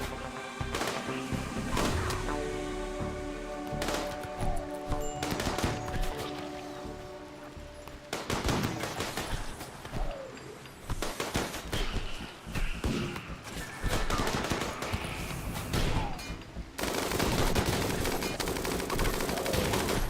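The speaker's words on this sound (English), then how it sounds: "Iggy, stop shooting, just shot me and Rosa." Dense gunfire from colonists' weapons in a RimWorld battle, with rapid bursts and single shots crackling over constant game music and effects, loud and nearly continuous throughout.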